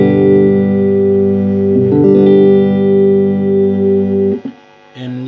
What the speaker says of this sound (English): you can clearly hear the hum from the amp itself